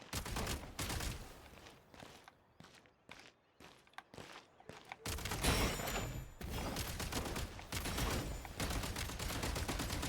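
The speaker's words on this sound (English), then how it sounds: "I saw a target, so just shoot." Dense, sustained gunfire in a video game firefight as a target is engaged, with rapid bursts, a short lull of scattered shots and footsteps, then heavy continuous shooting, no voices.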